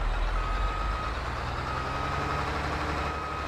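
A Katana 850 forage harvester in Farming Simulator 22 hums with a low engine drone while a steady reversing beep tone sounds over it, continuous and moderately loud.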